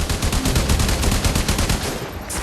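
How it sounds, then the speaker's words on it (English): Rapid automatic weapon fire in the video game Warframe, a steady fast stream of loud, evenly spaced shots that runs for a couple of seconds, then cuts off. "Destroy it with weapon fire."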